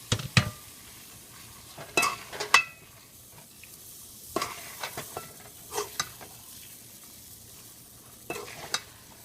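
Chicken liver frying in a pan, a faint low sizzle interrupted by sharp, irregular scrapes and clanks of a spatula against the metal, louder at the start.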